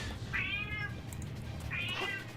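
A cat meows twice, two drawn-out, clearly pitched calls about a second and a half apart, moderately close over a low steady room hum.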